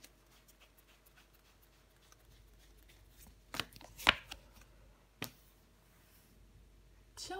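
Tarot cards being laid out and covered on a table: faint soft shuffles and a few sharp slaps and taps of cards placed down, scattered irregularly over near-quiet background.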